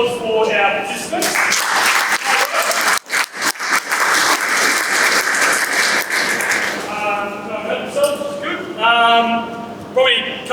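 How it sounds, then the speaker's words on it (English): Applause for participants at a football speed and power summit, a burst of clapping in the room that gives way partway through to someone talking, with more voices toward the end. "round of applause for our participants"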